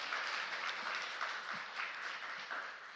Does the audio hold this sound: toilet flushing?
no